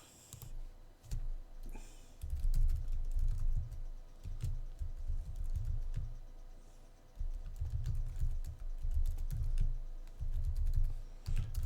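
Close-up typing of Java code on a computer keyboard clatters in quick bursts of key clicks separated by short pauses, with no one speaking.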